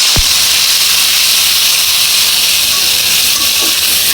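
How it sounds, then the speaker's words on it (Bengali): Onions dropped into hot oil in a wok, letting out a loud, steady sizzle that begins with a sharp burst and then holds as a bright, continuous hiss close up. "কড়াইয়ে তেল দিয়ে দিয়েছি, এখন এর মধ্যে অল্প পেঁয়াজ দিয়ে, এই যে দিয়ে দিলাম অল্প পেঁয়াজ"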